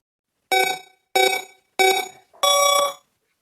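A timer alarm sounds four loud, evenly spaced electronic beeps, each about half a second long. The beeps are clean and bright, with silence around them.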